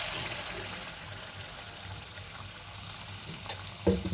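Pua pitha batter sizzling and bubbling in hot mustard oil, a soft close frying hiss throughout with a few louder spatters and a clink toward the end.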